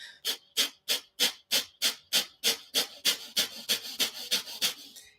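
Quick, forceful breaths through the nose, about three per second in a steady rhythm, close and loud, with no talking.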